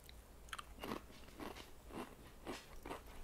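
Ketchup-flavored potato chips crunch in a series of about five crisp, close bites with quiet chewing between them, no talking.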